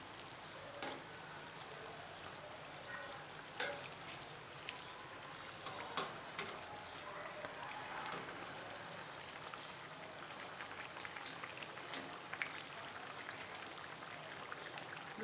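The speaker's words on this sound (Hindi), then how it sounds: "मीडियम लो फ्लेम पर हमने इसे फ्राई कर लेना है।" Aloo kachori frying in oil over a medium-low flame gives a steady, close crackling sizzle with scattered sharp pops and ticks throughout, no voices.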